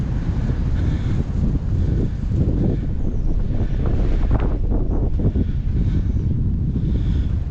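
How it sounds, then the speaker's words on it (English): Strong wind gusts over the open White Bluffs sand dunes in Washington's Scablands, buffeting the microphone with a loud, continuous low roar that swells and eases throughout, with no voices. "the wind just kicked up"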